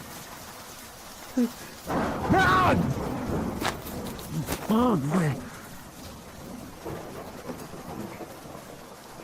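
Steady rain with rumbling thunder fills the background throughout, while a person gives a short exclamation and a few vocal sounds over it.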